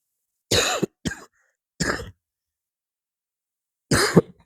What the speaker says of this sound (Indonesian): Mohon maaf ini ada batuk